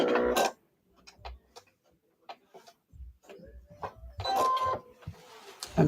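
Sewing machine stitching a fabric bowl cozy, run with a foot pedal, giving short mechanical bursts of rapid ticking separated by pauses, closer and louder near the start and end.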